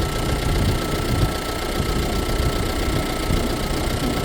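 A car engine idles steadily nearby, a continuous loud rumble with a slight knocking texture, heard right after it is started during a battery test.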